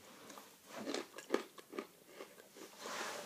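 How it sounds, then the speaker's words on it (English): Crunchy macadamia nuts bitten and chewed close up, several sharp crunches in an uneven rhythm with no talking. "Beautifully crunchy."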